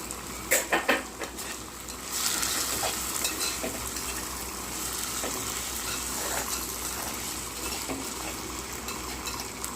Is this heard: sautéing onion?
yes